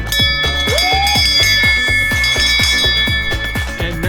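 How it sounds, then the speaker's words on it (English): A ship's bell on a sailboat is struck repeatedly in quick, steady strokes, ringing loud and close with overlapping metallic tones. "I need to ring the bell."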